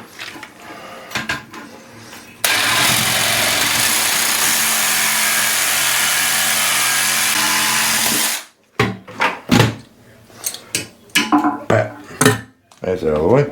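A power cutting tool slices off a rusted bolt during apartment maintenance, a loud, steady high-pitched grinding whine lasting several seconds, then stops abruptly and gives way to scattered metallic clanks and knocks.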